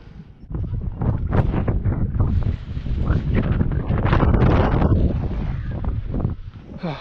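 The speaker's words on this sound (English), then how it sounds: "It's really windy" Strong wind roars and buffets the microphone in heavy, gusting bursts for several seconds on a public wharf, loud and close, with no one talking.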